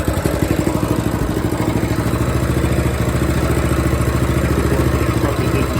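Small engine on a Manco Stinger two-seater go-kart running after a start without choke, a loud, close, steady rapid clatter that holds an even idle throughout.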